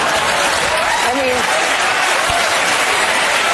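Studio audience applause from a replayed cable news broadcast, a steady wash of clapping running the whole stretch with a faint voice briefly audible underneath.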